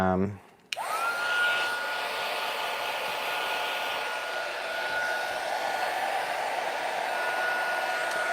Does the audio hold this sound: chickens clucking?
no